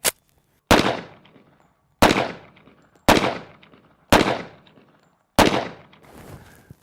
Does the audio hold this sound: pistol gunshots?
yes